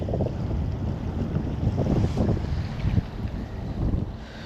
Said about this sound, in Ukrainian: Вітер сильний і дуже він заважає.